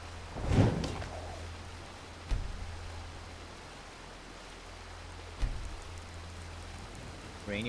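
Steady rain falls across the open world of Skyrim, a soft, even hiss that runs the whole stretch, broken by a few brief louder thumps.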